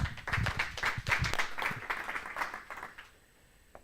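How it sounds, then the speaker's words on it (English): Audience applause for a speaker at a conference, a dense burst of clapping that starts strong and thins out over a few seconds before stopping. "So give a round of applause for Andrew."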